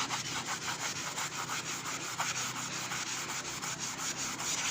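Scrubbing a Japanese crepe griddle clean, a steady close abrasive rubbing with quick repeated back-and-forth strokes throughout, loud and continuous with no talk.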